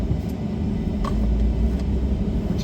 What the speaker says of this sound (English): We're just driving along Fulton Beach Road, guys.